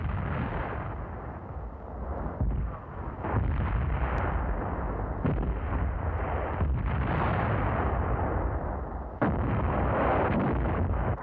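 Wartime artillery fire booms in a dense, rolling series of heavy blasts and crumps, some sharp onsets standing out over a continuous low roar, loud and muffled like an old recording.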